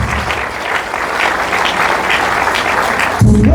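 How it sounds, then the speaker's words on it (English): Audience applause fills a university colloquium hall marking a fiftieth anniversary, steady dense clapping from a sizeable crowd that runs throughout before cutting off near the end. "a hand of applause for our discussants"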